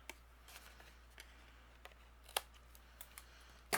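Scissors snip overhanging card paper while cardmaking, a series of quiet, crisp cuts spaced irregularly over a few seconds in a near-silent room, ending with one louder snip.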